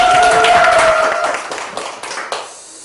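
A lecture audience applauds loudly after a greeting, with a brief shout rising at the start. The clapping thins out and fades over a few seconds, ending in a handful of scattered final claps.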